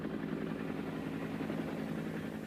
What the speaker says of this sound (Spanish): Helicópteros del gobierno sobrevolaban el recinto de día.